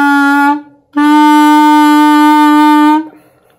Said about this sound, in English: I'm going to play E and then F so you can hear the difference in the 2 pitches.